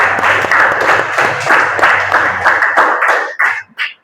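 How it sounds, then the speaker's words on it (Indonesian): Applause from a classroom audience after a group's presentation during a teaching practice session, a dense burst of clapping that holds steady for about three seconds and then thins into a few scattered claps before stopping. "Kita berikan tepuk tangan dulu."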